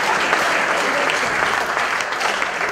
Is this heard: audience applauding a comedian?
yes